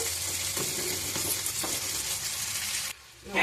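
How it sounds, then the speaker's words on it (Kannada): Brinjal pieces and browned garlic fry in a pan for a North Karnataka-style palya, giving a steady, close sizzle with stirring scrapes that drops sharply near the end. "ಬದನೆಕಾಯಿ ಸೇರಿಸ್ಕೊಂಡಾಗ ಇವಾಗ ನೋಡಿ ಅಷ್ಟು ಹಾಕ್ಕೊಂಡು ಇದನ್ನು ನೀಟಾಗಿ ಫ್ರೈ ಮಾಡ್ಕೋಬೇಕು"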